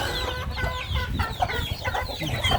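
Chickens cluck repeatedly and fairly close on a Thai poultry farm, among them a blind hen, with a steady low farmyard rumble beneath the overlapping calls.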